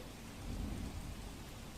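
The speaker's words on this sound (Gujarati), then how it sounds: "શહેરના અનેક વિસ્તારોમાં વરસાદ હજુ પણ યથાવત છે" Steady, dense rain pours down with an even hiss, continuous and close, no voices over it, in the city of Ahmedabad, India.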